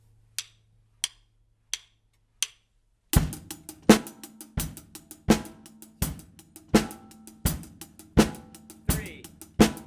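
Four soft count-in clicks lead into a rock drum groove with strong, evenly spaced kick and snare hits and ringing cymbals, played close and loud with no talking.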